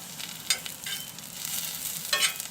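Garlic fries in a pan with a soft, continuous sizzle. Brief scraping stirs cut through twice, and no one speaks.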